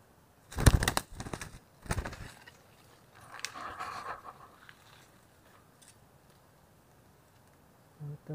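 A young bird with an orange breast, caught in a trap, gives a few short calls mixed with brief wing-flapping and handling bursts, moderately close, followed by quiet stretches.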